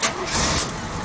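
An Oldsmobile 442 engine starts and catches, a steady broadband engine roar sustained close by for about a second with no talk.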